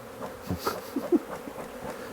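Bees buzz around a beekeeper with a low, steady drone close by, and faint rustling and brief noises come over the hum.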